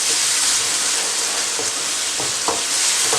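A spoon stirs lemon juice into moong dal khichdi gravy in a hot pan, a loud continuous sizzle with a few soft scraping strokes, close and with no voices.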